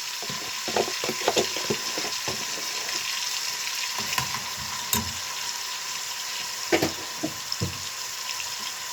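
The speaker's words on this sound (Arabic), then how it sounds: "اهي الطشه خلاص تحمر" Garlic tasha browns in a pan of oil for freekeh soup, a constant sizzle and crackle broken by a few clinks and stirring scrapes, heard close with no talk.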